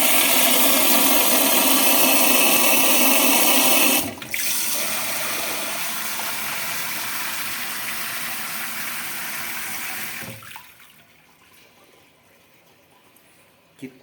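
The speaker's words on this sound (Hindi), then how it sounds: "अब आप फ्लशिंग देखिए," A smart toilet seat's flush roars loudly and steadily for several seconds, cuts briefly, then continues at a lower rushing level before draining away to near quiet.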